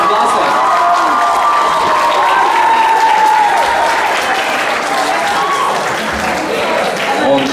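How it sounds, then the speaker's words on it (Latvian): A school hall crowd of pupils applauds a seventh- and eighth-grade aerobics performance, loud sustained clapping with scattered cheers and shouts, steady for the whole stretch. "Aplaus vēlreiz visām 6 klasēm!"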